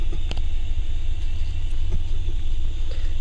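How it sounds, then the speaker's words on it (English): Ryko SoftGloss Maxx car wash machine at an Amoco station running nearby, a loud steady low rumble of motors with faint swishing of brushes and water. "Nyro's the machine going back and forth with the brushes and the water"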